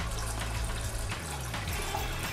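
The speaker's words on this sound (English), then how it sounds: "Get yourself a nice medium-sized pot and fill it with water." Tap water runs steadily into a medium-sized pot, a continuous close rush of filling water with a gently shifting pitch as the pot fills, no talking.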